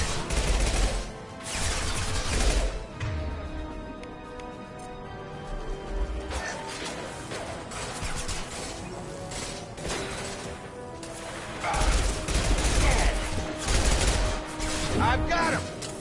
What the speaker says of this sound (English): Hammond, firing an impact gun